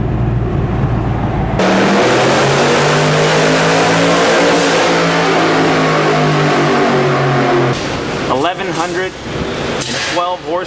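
A car powered by a 1200 hp NRE Shelby Code Red Ford engine on 22 pounds of boost roars loudly and close as it accelerates with a rising pitch. It drops abruptly at a gearshift, then settles into a lower drone as a voice talks over it.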